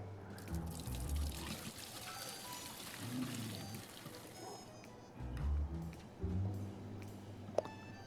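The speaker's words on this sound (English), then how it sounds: "Got the soil in, getting the water in." Water pours into an aquarium in the video game Aquarist, a soft continuous trickle and splash running under low background rumble throughout.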